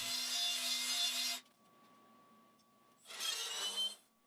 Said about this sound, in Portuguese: Depois posso lixar as extremidades para que se encaixem nos furos laterais da estrutura.